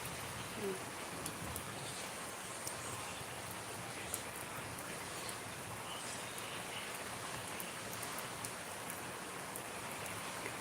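Heavy rain falls steadily and densely throughout, a constant close hiss of drops on surfaces with no break in intensity.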